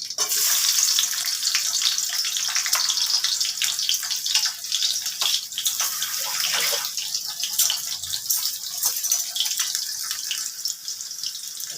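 Chopped onions, with green chillies to follow, frying in oil in a pan for Bengali rui posto, a rohu fish and poppy-seed dish. A loud, steady sizzling hiss runs throughout, with no talk.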